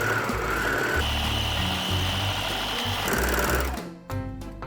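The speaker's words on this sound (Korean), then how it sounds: "여기 여민 부분에 오버를 해줍니다" An overlock sewing machine stitches fabric for a dog vest, sounding as a close, loud, rapid mechanical whir in short bursts with changes in pitch, then stopping.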